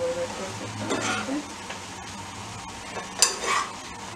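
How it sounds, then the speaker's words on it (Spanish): Shredded chicken being stirred into chilaquiles in a pan, with a few soft scraping and clinking strokes of a utensil over a low background sizzle, close and moderately quiet, with no speech. "Y los vamos a revolver perfectamente."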